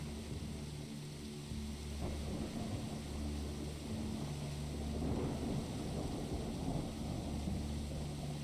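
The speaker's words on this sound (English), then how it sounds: "It's so stormy over here." Thunderstorm ambience in the Terra Foliata video game: a continuous low rumble of rolling thunder with a steady wash of rain, moderately loud and unbroken.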